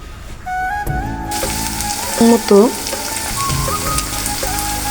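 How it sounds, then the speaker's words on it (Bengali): Chopped onion and chili frying in oil for a potato, bean and tomato chorchori, a steady close sizzle with a few louder stirring scrapes midway and faint music-like tones running underneath. "তেলটা দেওয়ার পরে পেঁয়াজ কুচি মরিচ কুচি দিয়ে ভালোভাবে নেড়ে নেব"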